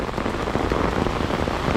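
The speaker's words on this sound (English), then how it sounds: "that rain is so cold when it hits your back" Heavy rain pours down hard and close, a dense, continuous patter drumming on surfaces without a break.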